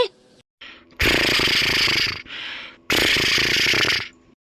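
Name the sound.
snoring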